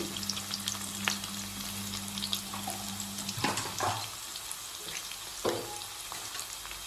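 Thinly sliced onions frying in a pan while preparing coconut milk bagara rice, giving a steady close sizzle with a few clinks and stirring noises, and no talking.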